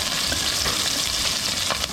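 Ginger, garlic and onion sizzle hard in hot oil in a pan, a dense, steady frying hiss with a few stirring scrapes, loud and close with no talking.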